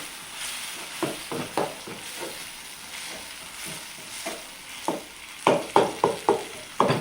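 A utensil stirs tomato chicken curry in a pan, making short scraping strokes at an irregular pace over a low frying background. The strokes cluster louder and faster toward the end, with no voices.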